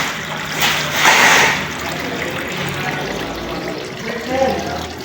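Water being pumped into a pipe system for a pressure test, heard as a rushing, gurgling flow that surges briefly near the start, then settles into a steady trickling hiss.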